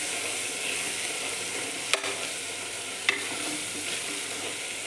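Chicken curry masala with coriander powder being stirred in a pan, a steady, even sizzle with two sharp clicks of a spoon against the metal, close and free of talk.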